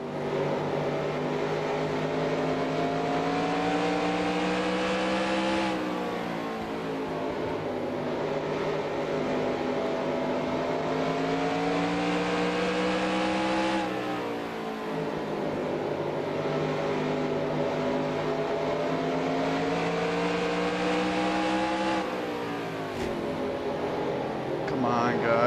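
Stock car engines roar around Bristol in NASCAR Racing 2003, a loud continuous drone climbing in pitch and dropping sharply at each gear change, repeating over the run, with occasional voice calls over the engine.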